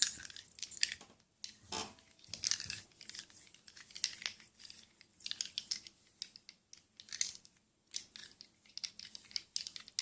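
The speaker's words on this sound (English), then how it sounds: "I could just run the dice between my hands like this" Soft, gentle rattling and clicking of small hard objects shuffled between hands, irregular bursts with short pauses, close and quiet, no talking.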